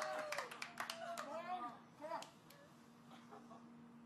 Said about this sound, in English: Family applauding